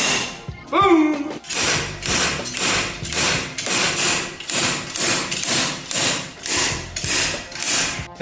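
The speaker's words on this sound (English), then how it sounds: "That took about 20 minutes of slide hammering" A steady series of sharp metallic slide-hammer impacts, roughly one per half second, repeats loudly after a brief squeal at the start, pulling an axle from a 1965 Ford Mustang.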